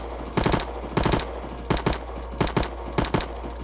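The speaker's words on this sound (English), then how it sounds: "I've never shot this gun before, so let's try it out." Prototype 17 firing in Rust Console, a rapid series of loud, close gunshot bursts in short clusters of two to four shots with brief pauses between, no talking.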